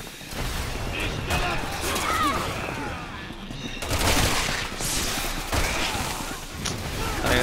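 Grenade launcher and gunfire in the video game Resident Evil 6, heard as dense, continuous bursts of shots and booms that sound like a loud, chaotic firefight, with voices talking over the action.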